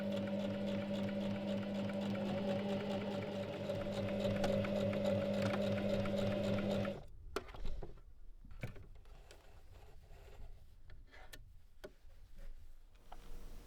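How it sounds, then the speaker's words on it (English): A sewing machine runs a straight stitch seam at a 1 cm seam allowance on a cotton robe, a steady rapid mechanical whir for several seconds that stops abruptly, followed by quiet ticks and handling noises. "Sew it with a straight stitch using a 1 cm seam allowance."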